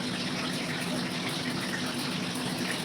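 Water gushes into a cooking pot with oil in it, a steady loud pouring rush that fills the whole short moment without pause.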